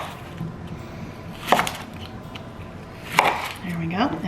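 A knife trims and chops vegetables for chicken stock on a board, two sharp isolated chops about two seconds apart over a quiet background, with a short scrape near the end.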